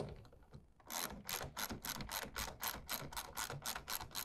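Tonneau cover clamps on a pickup truck bed are tightened with a ratchet, giving a close, rapid series of regular clicking strokes after a brief quieter start.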